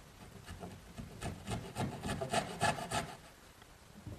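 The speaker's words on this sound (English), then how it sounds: "once again, I'm going to use my little dovetailing saw." A small dovetail saw rasps rhythmically back and forth through a wooden rail, about a dozen quick, soft strokes growing slightly louder midway, heard alone and close.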